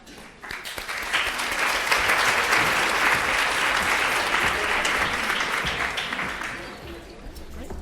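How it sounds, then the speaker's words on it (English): A lecture audience at LSE applauds steadily for about seven seconds, a dense wash of many hands clapping that rises quickly and tapers off near the end, with no talking over it. "Maybe we should give a very special applause also for Zainab for all of this."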